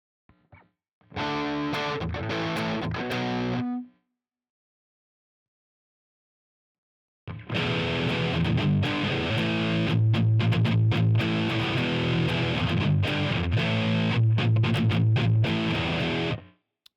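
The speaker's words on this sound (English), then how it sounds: "A modern Marshall will give you just as much distortion as any other high gain amp" Distorted electric guitar through a simulated modern Marshall high-gain amp in Amplitube: a short riff, a few seconds of silence, then a longer, denser chugging passage with sustained chords, loud and alone.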